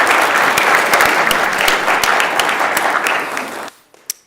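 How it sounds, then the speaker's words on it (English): Applause fills a state Senate chamber during a floor session, a loud, dense, sustained round of clapping from many people that fades out, leaving a couple of stray claps and near silence at the end. "Please join me and give them a big round of applause."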